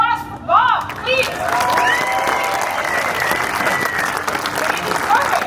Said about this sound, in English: give us a big applause for Bob, please